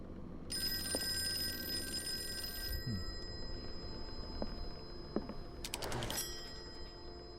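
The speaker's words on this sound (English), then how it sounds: "Alright, phone's gonna ring." An old telephone rings in the Call of Cthulhu video game, a long bright electric bell ring followed by a second shorter burst, with faint clicks and quiet room ambience between.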